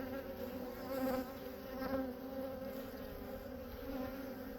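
Honeybees swarm around an outdoor apiary of hundreds of hives, a dense steady buzzing hum from many insects close by, with slight swells in loudness and no talking.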